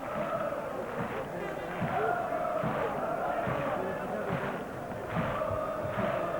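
Rapid Bucharest supporters clap in a steady rhythm, roughly one clap every second, filling a UEFA Cup stadium. A broad crowd roar sits underneath, and a commentator talks over it throughout.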